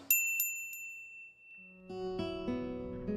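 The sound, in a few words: shop door bell ringing in Katawa Shoujo video game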